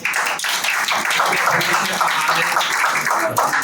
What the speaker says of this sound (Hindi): प्रभु यीशु मसीह के लिए एक जोरदार ताली बजाएंगे